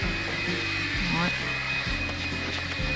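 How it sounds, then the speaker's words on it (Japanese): A Makita cordless vacuum cleaner runs steadily and loudly at close range while cleaning around a tiled washroom sink, its motor hum shifting in pitch a few times as it is moved, with no talk over it. "このマキタの掃除機はね本当に毛とかがすぐ取れて、すぐ捨てやすい"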